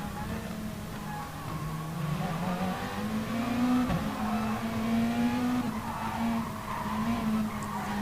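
A race car engine drones steadily and loudly, its pitch climbing and then dropping slightly as the driver short shifts into seventh gear to save fuel, heard continuously over broadcast crowd and track noise.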